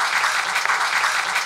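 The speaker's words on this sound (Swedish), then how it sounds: "Stor applåd till Captain America och Rille." Live podcast audience applauding, a dense, steady wash of many hands clapping at once, moderately loud and sustained through the brief moment without a break.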